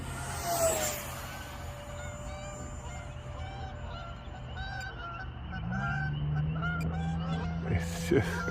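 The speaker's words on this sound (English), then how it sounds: "I don't like those ducks over there flying by. Geese, whatever the hell they are." Geese honk repeatedly as they fly past outdoors, a string of nasal calls at moderate distance over a steady low engine drone of a model airplane.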